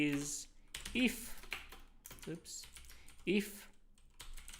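Typing code on a computer keyboard, with steady close key clatter running under a man's intermittent speech.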